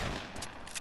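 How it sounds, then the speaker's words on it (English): Fortnite minigun fire rattles as dense, continuous rapid bursts, loud and close, with no talk over it. "Is that you with the minigun?"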